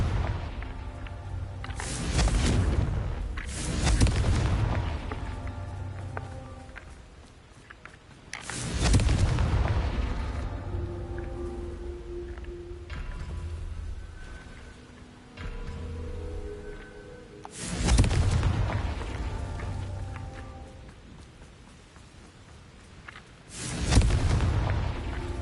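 Confringo spell blasts in a Hogwarts-style video game erupt as deep, rumbling explosions, five heavy booms spaced several seconds apart, each followed by a long fading roar.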